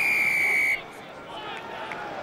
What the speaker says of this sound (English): Cue the whistle.